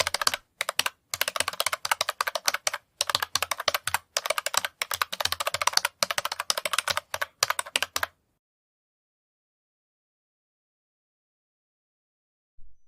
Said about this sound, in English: Now, type the following formula sum 1 and 9 and press enter.